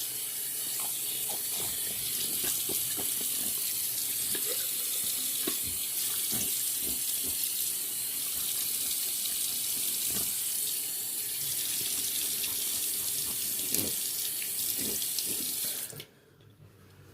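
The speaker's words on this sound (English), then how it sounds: "now I'm going to rinse the face off and put on the aftershave" Bathroom tap running steadily into a sink while the face is rinsed after a shave with a Rockwell 6S razor, a constant close rush of water with splashes and small knocks, cutting off abruptly near the end.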